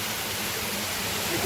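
A Konkan waterfall pours as a steady, dense rush of falling water, loud and unbroken throughout the short stretch.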